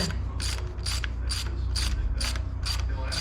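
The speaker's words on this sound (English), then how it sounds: "Tapping the new threads." A hand tap cuts fresh threads with a steady series of about eight rhythmic ratcheting clicks, close and evenly spaced over a constant low mechanical hum.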